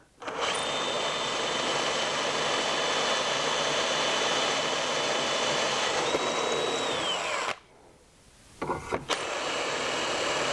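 A power drill with its supplied bit bores holes through bushings for hardware installation, holding a steady high whine for about seven seconds. It winds down, goes quiet, then gives a couple of short bursts before running again.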